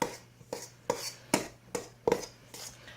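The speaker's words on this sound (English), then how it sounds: "So what you want to do is literally cut the shortening into your flour." A knife chops shortening into flour on a board, about eight evenly spaced dull knocks over a few seconds, close and clear with no voices.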